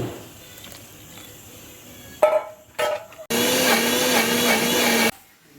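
A mixer grinder whirs loudly for a couple of seconds after a few short bursts, grinding a paste with turmeric and chili powder for a pumpkin and lentil erissery; no talking.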